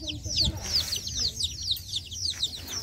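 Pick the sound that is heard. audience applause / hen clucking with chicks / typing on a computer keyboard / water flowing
hen clucking with chicks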